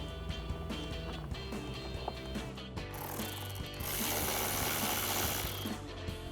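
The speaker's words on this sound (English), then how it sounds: "We're going to tighten it down with a 10mm socket," Ratchet with a 10mm socket and extension tightening a mirror bolt on a RAM 1500, a rapid, steady run of close metallic ratchet clicks that continues for several seconds.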